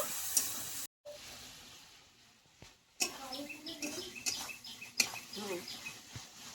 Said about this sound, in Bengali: এইবার আমি বেটে রেখেছি যে সর্ষে, পোস্ত, চালমগজ, কাঁচা লঙ্কা একসঙ্গে দিয়ে দেবো। দিয়ে 1 মিনিট মতো এরকম একটু নেড়ে চেড়ে নেব।